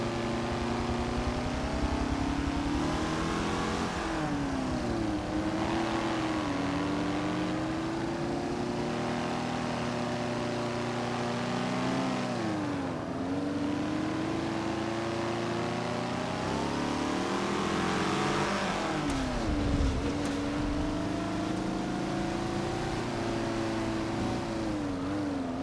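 Ford Fiesta engine in Forza Motorsport 7 autocross, a steady mid-pitched drone that rises and dips with repeated revving and gear changes across the whole stretch, close and continuous with no talk.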